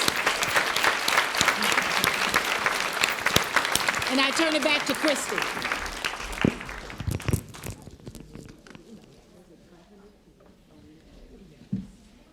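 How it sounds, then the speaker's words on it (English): Audience applauding panelists at the close of a session, loud sustained clapping that fades out after several seconds, followed by a single spoken line and quieter room sound. "Let's give them another round of applause"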